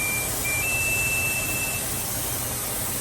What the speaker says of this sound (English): Okay, my timer's going off.